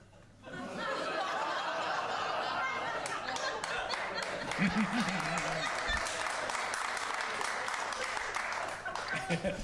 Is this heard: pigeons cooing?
no